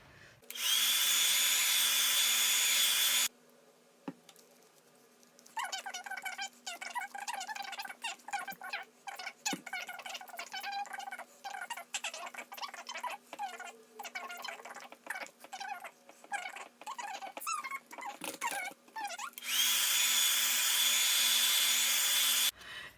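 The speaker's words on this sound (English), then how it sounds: "Every time I turn on the hair dryer to dry a page, something goes flying off the table." A hair dryer blasts loudly in two bursts, drying a gesso-coated journal page, at the start and near the end, with scraping and rustling handling sounds in between.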